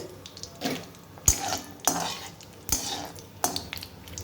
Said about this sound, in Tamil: கடாய் நல்லா ஹீட் ஆனது நம்ம எடுத்து வச்சுருக்க மசாலா பொருள் எல்லாத்தையும் இதில் ஆட் பண்ணிக்கலாம்